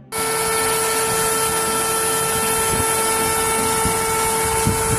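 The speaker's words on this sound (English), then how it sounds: "Get in here and see how this CNC's doing." An X-Carve CNC router carves a custom sign, its spindle whining in a steady high-pitched tone over a continuous motor hum, loud and close, running without pause after a brief start.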